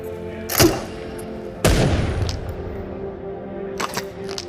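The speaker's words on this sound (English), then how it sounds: "So you press trigger on this hand, it launches a grenade." A grenade launcher fires in a VR game with two sharp booming blasts followed by decaying rumble and a fainter thump later.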